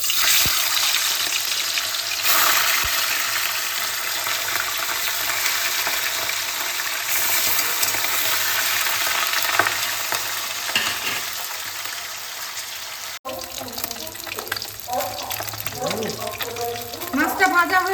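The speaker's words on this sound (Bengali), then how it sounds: "ফলুই মাছটা আমি হালকা করে ভেজে নেব।" Salted, turmeric-rubbed folui fish frying in hot oil, a steady close hiss and sizzle running continuously, then shifting to busier crackling bursts near the end, with faint background voice.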